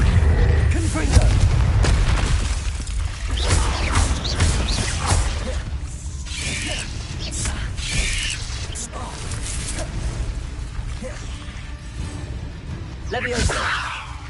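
Confringo fire spells cast in Hogwarts Legacy on the PS5 Slim set off loud, repeated explosive booms and crashes with whooshing blasts, packed densely across the whole stretch.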